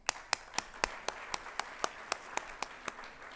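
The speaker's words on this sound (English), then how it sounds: "Let's give them a round of applause." Slow, evenly spaced hand claps ring out one by one at an academic awards ceremony, about a dozen crisp claps in a steady rhythm, fairly close and otherwise quiet between them.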